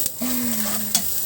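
Chopped onion hitting hot canola oil in a pan, being cooked for an egg and kangkong dish: a short close sizzle with a faint steady tone, with stirring noises around it and no talking.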